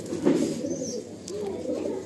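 Male Madrasi pigeons in a loft give low, rolling coos that run steadily under a faint background murmur, close by and moderately loud.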